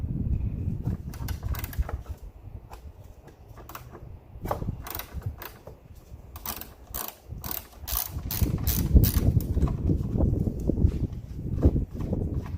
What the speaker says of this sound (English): the first thing we need to do is remove the negative battery cable before we do any service on the starter relay